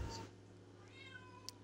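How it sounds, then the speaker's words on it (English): A house cat meows a few faint, drawn-out times indoors over low background hum, with a brief brighter chirp near the end. "Listen, Luna, you're gonna ruin my stream if you keep fucking meowing."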